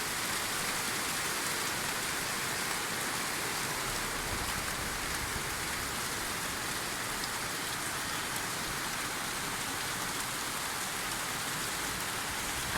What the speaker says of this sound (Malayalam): ചെറിയൊരു മഴയാണ് പെയ്തത്